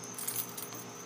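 Spare keys on a leather key keeper with gold-tone hardware jingle and clink close by in a short metallic rustle, with no talking.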